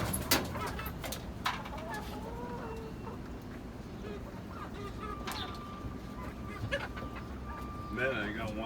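Hens in a backyard coop cluck and squawk in scattered bursts, with a rooster-like call near the end, under a steady outdoor rumble while someone talks over them.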